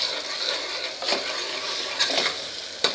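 An ingredient sautéed in a pan with already browned onions for drumstick curry, a steady sizzle with a few brief stirring scrapes spaced about a second apart.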